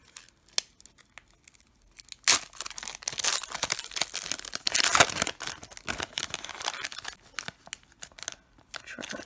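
NFL Contenders 2020 trading card packs from a blaster box torn open by hand, sharp crinkling foil rips and rustles in bursts, close and loud, with a few quiet taps before the tearing starts.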